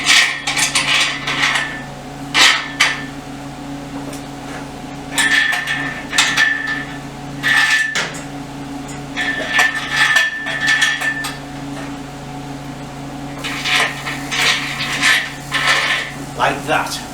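Metal cross bolts going into a steel motorcycle frame jig clank and tap in irregular bursts, with knocks and rattles between quieter stretches under a steady low hum.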